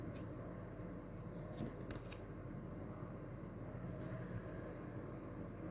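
Tarot cards being shuffled by hand, a few faint, brief riffling bursts standing out over a steady low background hum.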